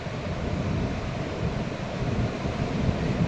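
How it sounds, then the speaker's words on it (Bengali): Sea wind rushes and waves wash steadily on Mandarmani beach, a broad continuous roar with wind buffeting the microphone, no voices. "সি উইন্ড এখানে আসছে, কি দারুণ লাগছে।"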